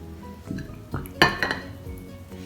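A drinking glass set down over a lit candle standing in a plate of water, giving a few close clinks and a sharp knock of glass on the dish. No speech is heard.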